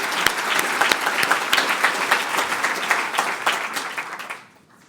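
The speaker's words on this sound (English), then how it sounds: "So please offer a round of applause for them." Sustained audience applause fills a plenary session hall, dense and steady with many hands clapping, then dies away quickly in the final half second.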